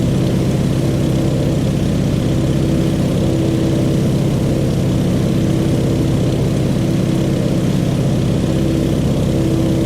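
A Stearman biplane's radial engine drones steadily on landing approach, a loud, close, continuous propeller hum with a throbbing low rumble and no break.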